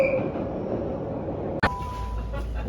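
A London Underground train runs with a steady rumbling roar, a brief tone fading at the start, then a sharp metallic clank followed by continued rolling noise and a faint squeal.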